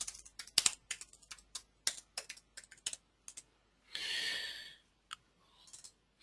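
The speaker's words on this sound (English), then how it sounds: "I'm just going to type the URL in." Computer keyboard keys tapped in quick irregular bursts, close and crisp, with a longer smeared rustle midway and a few final isolated clicks.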